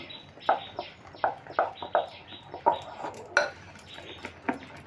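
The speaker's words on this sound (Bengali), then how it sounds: "আবারও ফেটিয়ে নেবো এগুলো সমস্ত কিছু মাখিয়ে" Spiced phuluri batter is whisked in a bowl, producing close, rhythmic clinks and taps about twice a second, with soft scraping between the strokes.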